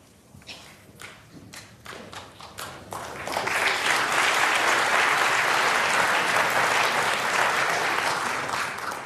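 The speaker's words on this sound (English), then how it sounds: "It's a sort of muted applause, isn't it?" A snooker crowd at a 2024 match between Ronnie O'Sullivan and Xiao Guodong claps, beginning with scattered, hesitant taps that swell into steady, muted applause filling the hall and holding for several seconds.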